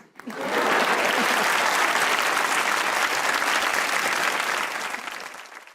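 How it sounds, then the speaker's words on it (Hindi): A studio audience at a comedy talk show breaks into dense, loud applause that rises quickly, holds steady for several seconds, then fades away, with no voices over it. "सबके लिए तालियाँ"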